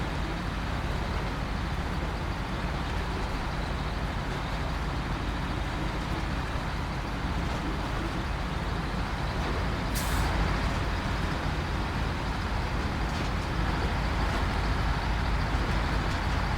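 Heavy trucks in the SnowRunner video game produce a dense, continuous engine roar and rumble, with a brief hissing air-brake burst partway through, loud and steady from start to end.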